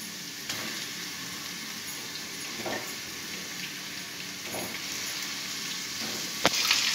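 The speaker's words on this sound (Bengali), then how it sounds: "এবার আমি চিকেনগুলো একে একে এর মধ্যে দিচ্ছি" Chicken pieces fry in hot ghee in a pan, a steady close sizzle with a few soft splutters and clicks, and no talk is heard.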